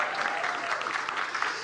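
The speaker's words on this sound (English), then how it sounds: "Applause, applause, applause." Applause from the audience at a live comedy show, steady and fairly soft, a continuous wash of many hands clapping with no break.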